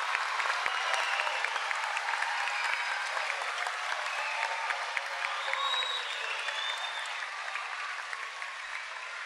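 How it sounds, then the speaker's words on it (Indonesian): A steady wash of audience applause after a Pancasila stage performance at Santa Ursula BSD, dense and sustained for the whole stretch, fairly distant with a faint crowd murmur beneath. "mari kita beri tepuk tangan yang meriah untuk pergelaran Pancasila"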